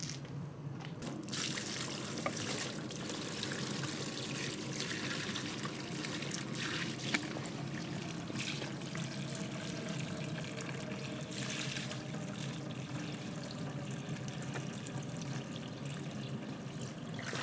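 Water runs steadily onto a pre-sloped shower floor under test, a continuous splashing trickle close by with no talking.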